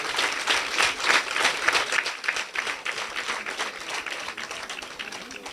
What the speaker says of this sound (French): je demande qu'on applaudisse pour le curé et sa chorale